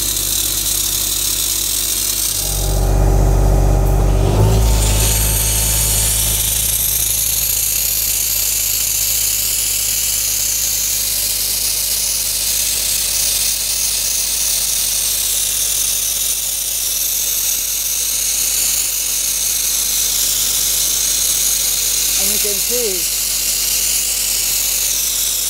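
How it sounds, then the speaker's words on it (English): A compressor-driven abrasive garnet blasting gun roars in a loud burst of hissing air at the start, then settles into a steady, continuous blasting hiss that runs on without pause throughout. "So let me start up the compressor."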